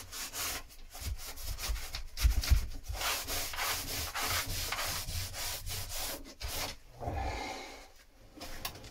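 Hand sanding of a wooden block, a steady run of rough, rasping rubbing strokes heard up close and alone, with a brief pause near the end before the scraping resumes.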